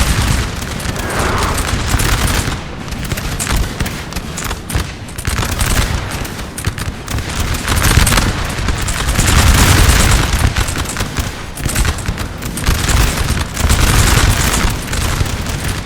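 Napoleonic line infantry, militia and grenadiers trade dense, rolling musket volleys in a Napoleon: Total War multiplayer battle against Swedish artillery, with booming artillery mixed into continuous crackling gunfire that swells and fades in waves, loud and with no pause.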